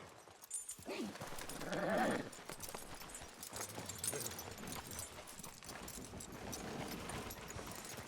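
Horses move in Red Dead Redemption 2, a soft continuous clip-clop of hooves under faint background noise, with a brief louder animal sound near the start.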